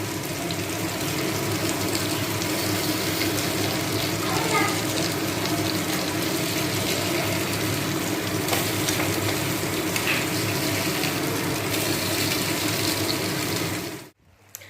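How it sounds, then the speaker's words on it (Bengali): Chicken steaks fry in a pan, giving a continuous loud sizzle and bubbling crackle for about fourteen seconds before it stops abruptly. "এখন চিকেন স্টেকগুলো ফ্রাই করে নিচ্ছি"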